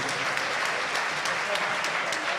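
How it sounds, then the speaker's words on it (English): Audience applause at a tech summit stage event, a steady dense wash of clapping filling the whole stretch with no break. "Big applause for Roberto."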